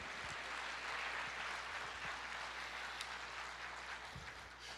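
A church congregation applauding during a Portuguese-language sermon, a moderate, fairly distant wash of clapping that stays steady throughout, with no speech.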